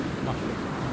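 Strong gusting wind in a forest survival video game, a broad roaring whoosh with low rumble that fills the whole moment, with voices in the background.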